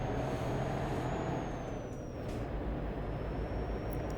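A truck engine in Euro Truck Simulator 2, a steady low diesel rumble that drones on without pause, fairly quiet and close, with a faint high whine running over it and no talk.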